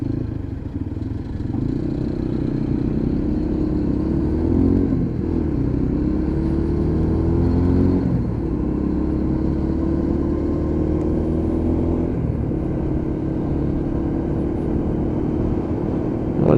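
Lexmoto LXR motorcycle engine on a road ride, a steady loud drone with shifting pitch and rev changes, a couple of brief dips as the throttle eases, plus wind and road rumble throughout.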